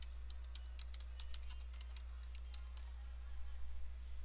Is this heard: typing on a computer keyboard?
yes